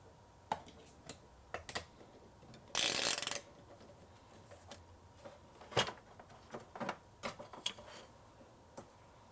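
Small metallic clicks and ratcheting taps come from a locking nut being worked loose on the back of a Furrion battery monitor's installation plate, with one brief louder rasping burst in a quiet setting.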